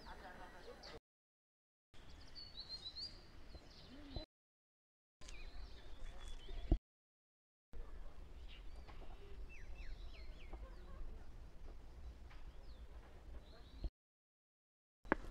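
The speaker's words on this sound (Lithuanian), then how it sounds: "Paukščiai čiulma." Birds chirping outdoors in the mountains around Ghandruk, short bright calls and clucking fowl scattered over a hushed background, moderately near, with gaps of silence between stretches and a person talking at times.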